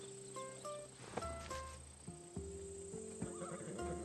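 Horse whinnying in Assassin's Creed Odyssey, a few clear tonal neighs over a steady insect and cricket chirr, with faint hoof clops beneath.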